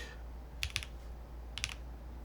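Two short bursts of keystrokes on a custom HellCat Alice mechanical keyboard, crisp clicky taps heard up close with quiet gaps between them.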